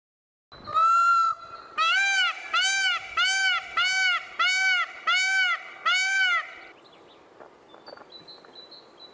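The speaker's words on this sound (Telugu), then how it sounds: "నెమలి అరుపుని ఇక్కడ వినవచ్చు." A peacock gives a series of loud, nasal, honking calls, about seven in a rhythmic run, clear and fairly close, then fades to quiet ambience.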